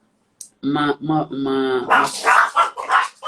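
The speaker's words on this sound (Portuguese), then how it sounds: "Fundo musical aqui, meus cachorrinhos, viu, gente?" Two dogs bark and yip in quick bursts close by, mixed with voiced, speech-like sounds as the barking carries on.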